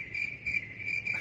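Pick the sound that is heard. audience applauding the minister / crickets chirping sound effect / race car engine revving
crickets chirping sound effect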